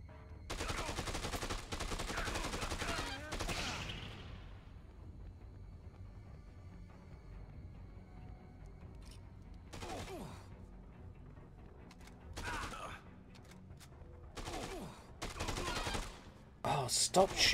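Gunfire in the video game Dead Rising 2 aimed at the player, dense rapid bursts in the opening seconds followed by scattered short volleys, loud over game ambience.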